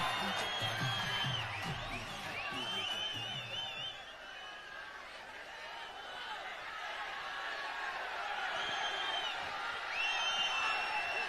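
A large outdoor crowd at the Idly Kadai pre-release event claps and cheers for actor Dhanush, with whoops and scattered shouts rising over a steady wash of applause throughout.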